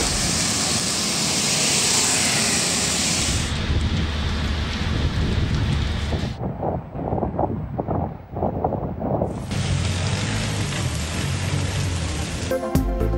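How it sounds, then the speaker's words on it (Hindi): Rain pours down with gusting wind in a news report of storms across several Punjab cities, a steady loud broadband wash that drops back briefly midway before the downpour returns in full. "बादल आए, बिजली कड़की,"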